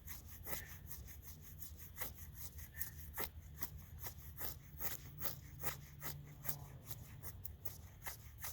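Bushcraft knife shaving curls from pale white wood, a rapid run of close, dry scraping strokes repeating steadily for several seconds with no talk.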